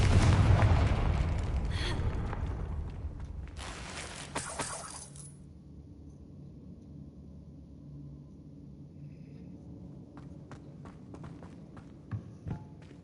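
Confringo fire-blast spell in Hogwarts Legacy, a loud rumbling explosion that fades over a few seconds into quiet ambience with scattered faint clicks and small thuds.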